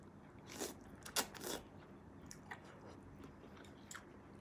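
Close, quiet chewing of instant noodles cooked with two eggs and chili flakes, a few crunchy bites clustered early and then softer mastication.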